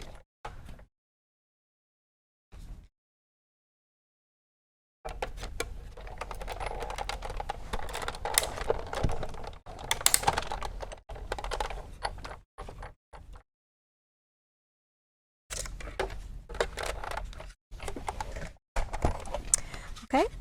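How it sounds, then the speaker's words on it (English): A crafting die cutting machine cranked by hand with paper pieces fed through, stretches of rattling, clicking mechanical grinding that stop and start between short silent gaps, close and fairly soft. "just crank them through the die cutting machine"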